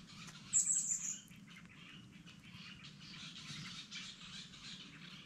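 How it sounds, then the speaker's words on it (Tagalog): Several birds chirp near the start, with a short burst of bright tweets. Softer calls continue over a steady low background hum in a quiet rural spot. "Wala kang ibang maririnig kundi huni ng ibon."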